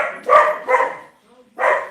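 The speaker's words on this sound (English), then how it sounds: "Well, that's my dog." A pet dog barks in several loud, close bursts indoors, two quick barks, a pause, then another, during a live football broadcast of the Jets at the Panthers.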